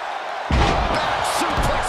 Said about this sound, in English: What a slam.